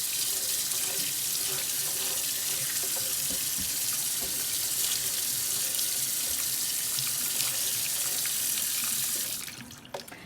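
A watermelon is rinsed under a running kitchen tap, making a steady close splashing rush of water that lasts throughout and cuts off abruptly just before the end, with no talk.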